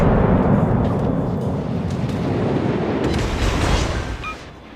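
Heavy naval shellfire from a warship's big guns in World of Warships rumbles as a loud, continuous low roar of distant booms and explosions, with no talk, fading slightly at the end.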